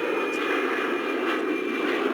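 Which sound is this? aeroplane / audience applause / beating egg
aeroplane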